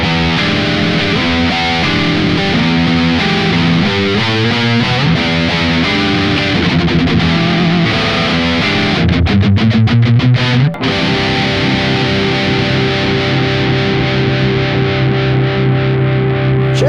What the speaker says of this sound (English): So this is the 57 Plus and the 57 together.